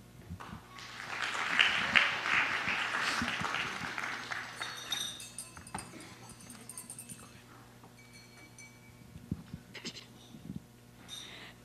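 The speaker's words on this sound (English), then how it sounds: "if you want to give a round of applause and encouragement to the bride and groom" Guests at a wedding reception clap for the bride and groom, applause swelling to a moderate peak and then tapering off, with a few scattered claps and murmurs afterward.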